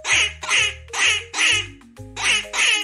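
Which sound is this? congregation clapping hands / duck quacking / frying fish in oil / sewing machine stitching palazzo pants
duck quacking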